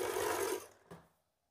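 A sewing machine stitching a fabric lining, running in a short close whirring burst that stops abruptly, followed by a single soft clunk before silence.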